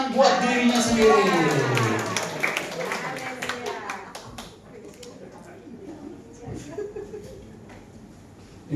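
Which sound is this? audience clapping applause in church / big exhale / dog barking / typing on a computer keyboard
audience clapping applause in church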